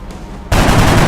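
A gunshot fired by a soldier in the XCOM: Enemy Unknown strategy game erupts suddenly as a loud, dense burst of gunfire that sustains to the end, after a quieter ambient lead-in.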